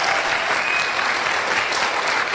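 A seated audience breaks into a short, dense burst of clapping, an even, continuous wash of applause with no voices heard over it.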